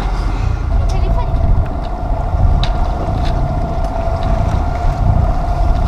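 Steady wind roars and buffets the microphone aboard a sailboat sailing from Port Leucate toward Banyuls-sur-Mer, a continuous loud rush with low rumble throughout.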